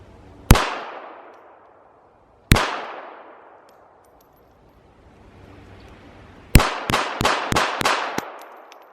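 Pistol fire from a Glock and a Baby Rock .380 ACP 1911: two loud single shots with long ringing decay, then a fast burst of about six shots in quick succession, close and sharp outdoors.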